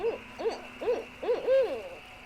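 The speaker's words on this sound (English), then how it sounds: "he was met by owls who would frantically send out hoots" Owls hooting at night, a run of five loud, close, mournful hoots at an even pace, the last one longer and drawn out, with no other sound around them.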